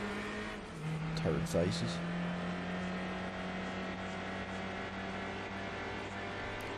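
Race cars from Gran Turismo 4 sweep past with a rising then fading engine whine, two quick pass-bys close together over a steady drone of the player's own car, with someone talking over them.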